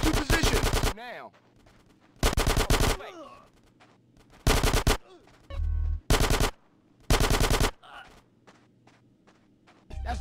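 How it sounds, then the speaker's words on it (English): Bursts of automatic gunfire in Grand Theft Auto: San Andreas, laying down suppressing fire in a gang shootout: five loud, dense volleys, each about half a second to a second long, separated by short gaps with faint shouting voices between. "Get some suppressing fire in there!"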